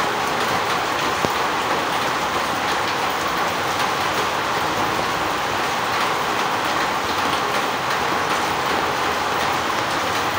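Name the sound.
rain falling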